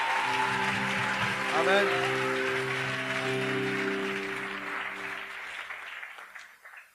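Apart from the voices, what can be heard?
congregation applauding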